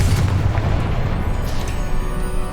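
A Confringo spell explosion in Hogwarts Legacy: a loud, low rumbling boom that fills the whole short moment and stays heavy throughout, with no talking.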